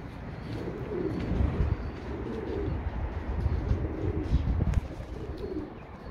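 Racing pigeons at their loft coo in soft, repeated throaty murmurs, a low steady chorus with faint rustling and a sharp tap near the end.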